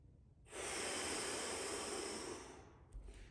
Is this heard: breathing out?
yes